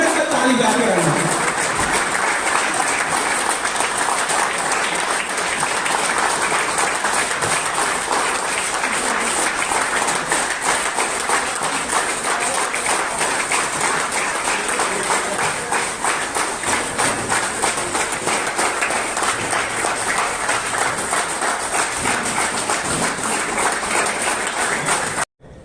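A seminar audience claps steadily and rhythmically for over twenty-five seconds at an MLM leadership talk; the dense, even applause fills the room without a break, with voices faintly mixed in, and cuts off abruptly at the end.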